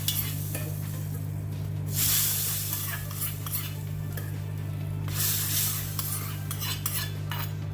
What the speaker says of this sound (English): Let's add our tadka to this dal.